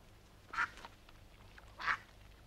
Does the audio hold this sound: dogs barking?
no